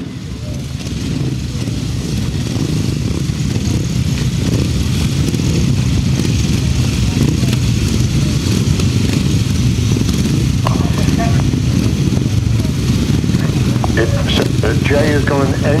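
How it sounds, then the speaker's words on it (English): Grasstrack racing motorcycles rev together on the start line at a grasstrack race meeting, a loud, continuous, close engine roar with brief revving bursts and faint voices near the end. "Revving up on the line then for race number 18."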